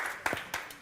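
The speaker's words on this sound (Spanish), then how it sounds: "aplausos. Gracias." Handclaps from an audience at a congress award ceremony, a few sparse, faint claps in a short burst.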